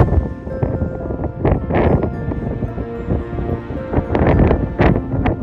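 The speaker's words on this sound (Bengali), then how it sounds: "খুব জোর হাওয়া দিচ্ছে।" Gusty mountain wind on a Himalayan road buffets the microphone in loud, rumbling bursts, with rustling in between and no speech.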